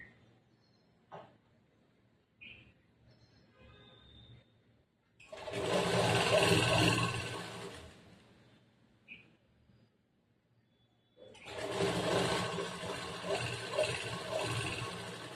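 Domestic sewing machine stitching the seams of semi-patiala churidar pants with a plain stitch instead of an overlock: two sustained bursts of steady mechanical whirring, with brief handling clicks and pauses between them.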